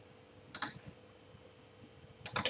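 Two quick bursts of computer keyboard keys pressed for a Ctrl+C copy command, each a short cluster of clicks, the second slightly busier, over a quiet background hum.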